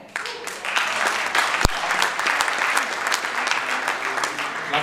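An audience at a district New Year's reception in Harz, Germany applauds a speaker, a full sustained round of clapping that rises after a quieter start and stays dense throughout.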